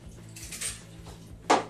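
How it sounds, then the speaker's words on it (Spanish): Ice cubes dropped into a blender jar holding coconut rum and Jägermeister, giving a few short clinks and one sharper rattling clatter near the end, close and fairly quiet. "Ahora agregamos unos tantos hielos."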